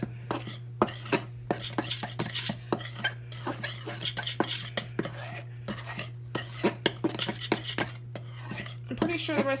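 A utensil stirs chocolate chip blondie batter in a bowl, producing rapid, steady scraping and clinking against the sides under a constant low hum, with no voices.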